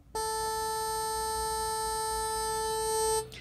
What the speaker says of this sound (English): It's a sawtooth at A440, so it sounds like this.